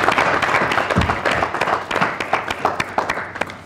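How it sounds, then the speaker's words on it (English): Conference audience at the launch of the 2019 Economic Report on Africa applauding, a loud burst of mixed claps that thins into scattered, sharper individual claps toward the end. "They deserve a round of applause for a job well done"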